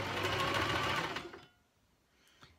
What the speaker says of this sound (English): Turn the fabric, put your presser foot back down, sew some more.